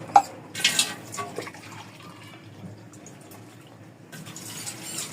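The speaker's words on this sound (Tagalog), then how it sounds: "lagay pa tubig" Water splashes and pours into a cooking pan, loud at first and then settling into a softer, steady trickle before another splash near the end.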